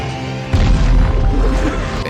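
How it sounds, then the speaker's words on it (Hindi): A heavy explosion from black-powder-tipped arrows in a movie scene, a sudden deep boom that rumbles on loudly. "जैसे ही तीर थाईथोई में लगे तो तीर में मौजूद काला पाउडर से जोर का धमाका हुआ"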